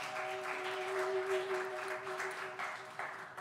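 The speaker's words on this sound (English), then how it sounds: "give yourselves a round of applause for coming out tonight" Audience applauding at a live band show, a steady wash of clapping and crowd noise through the whole stretch, with a sustained tonal hum running beneath it.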